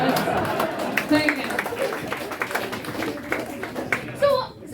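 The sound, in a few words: audience applause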